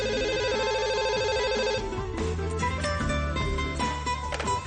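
A telephone rings on its own in a late-night drama scene, sounding as a bright repeating electronic ringtone that shifts pattern partway through, with no talking.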